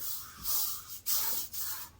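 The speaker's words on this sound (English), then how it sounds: "at this time I could spray some more" Foaming cleaner is sprayed onto a toilet bowl in several close, hissy bursts with brief gaps between them, with no talking.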